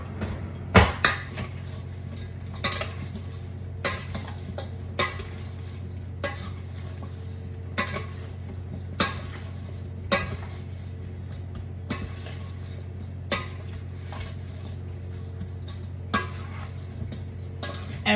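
Chicken legs and potatoes are mixed with Italian seasoning in a pan or dish, making repeated close scraping and clattering knocks in an irregular rhythm over a low hum.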